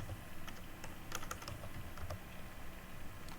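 A cp copy command being entered at a terminal on a computer keyboard, the tab key pressed for completion: soft, scattered keystrokes over a steady background hiss, no one speaking.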